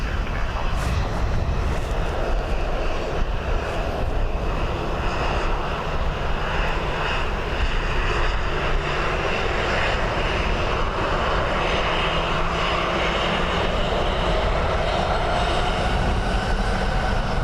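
An airliner lands at Dublin Airport on a windy day, its engines making a sustained, heavy roar with a rumbling low end that carries steadily throughout, with no clear voices.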